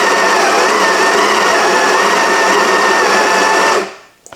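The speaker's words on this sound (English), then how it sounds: "So I'm using the Sage Grinder Pro. Just let it finish grinding." A Sage Grinder Pro burr grinder grinds medium-roast Brazilian coffee beans in a steady, loud whirring buzz that runs unbroken for nearly four seconds, then cuts off abruptly and spins down.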